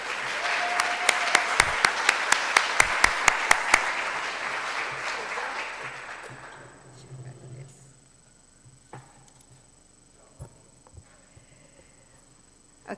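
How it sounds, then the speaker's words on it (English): Audience applause at a Rotary Club of Oakland civic meeting, a dense burst of clapping with a few sharp individual claps that fades out after about six seconds into quiet room noise. "Let's give him a round of applause."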